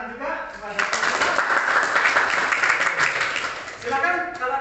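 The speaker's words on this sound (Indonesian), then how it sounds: "Tepuk tangan juga kepada teman-teman." A group of classmates clapping in a room, a dense burst of applause lasting a few seconds before fading as a voice resumes speaking.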